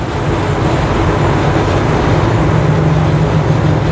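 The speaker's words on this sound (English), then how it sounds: "Quite a bit louder with the cutouts, obviously." A 1965 Chevrolet C10 pickup with its exhaust cutouts open, cruising around 70-75 mph, gives a steady, loud, continuous roar with a deep low-end rumble and constant road noise throughout.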